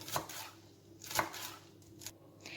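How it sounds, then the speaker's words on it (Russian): A knife chops green onion and dill on a cutting board, three or four crisp, evenly spaced cuts close by, quiet and with no talking. "Также сразу я нарезаю зелень, в моем случае это зеленый лук и укроп."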